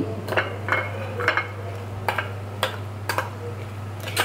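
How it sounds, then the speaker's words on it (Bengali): A spoon mixes a sesame and dried fish fritter mixture in a bowl, with a series of distinct scraping clinks and taps at an uneven rhythm over a low steady background hum. "চামচ দিয়ে এটা মিশিয়ে দিব।"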